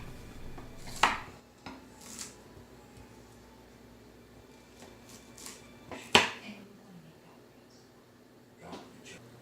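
Coarsely cut cabbage tumbling into a pot of beef soup for dogs, with a couple of sharp clattering knocks against the pot and quieter rustling and scraping in between, over a low steady kitchen hum.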